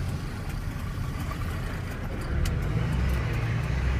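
A roll-off dumpster truck, a Duramax diesel, rumbles steadily nearby as it pulls into a shop, its low engine drone swelling slightly louder toward the end, with no talking.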